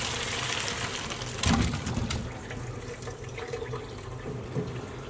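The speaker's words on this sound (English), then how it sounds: "And we'll just strain our potatoes." Boiled potatoes strained in a kitchen sink, hot water pouring and draining in a steady, close rush with a brief louder splash early on, continuing unbroken throughout.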